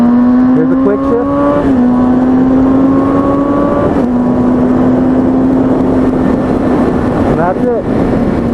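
A motorcycle engine holds a steady, buzzing note through a quick upshift, its pitch dropping briefly at each gear change while the ride continues close and loud.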